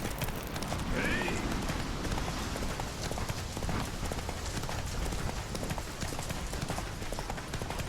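Roach, a horse in The Witcher 3, gallops with quick, steady clip-clop hoofbeats, close and continuous throughout, with a brief whinny-like sound near the start.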